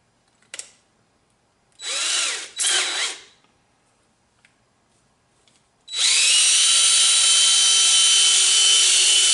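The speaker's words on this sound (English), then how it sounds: "You can hear it, it's just kind of chugging." A cordless drill on a weak, low battery gives a few short, sputtering bursts that rise and fall, then settles into a sustained, steady whir for the last few seconds, close and loud with no talking.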